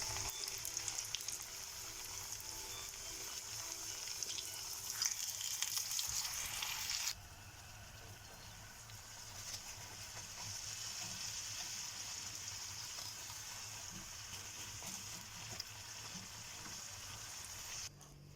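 Raw börek pastries frying in hot oil give a steady, close sizzle that runs throughout with no talk, dropping slightly in level partway through as fresh pieces go in.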